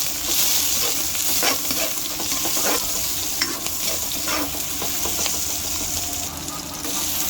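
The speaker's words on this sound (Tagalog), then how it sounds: "gisa na tayo" Vegetables sautéing in a pan for a Filipino home lunch dish, a steady, close sizzle broken by repeated scraping and stirring strokes, with no voices.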